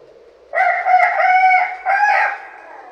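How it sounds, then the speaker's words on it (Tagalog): A rooster crows loud and close, one long cock-a-doodle-doo with a brief break before its final drawn-out note, heard alone over near silence. "3 beses na tumitilawak ang manok."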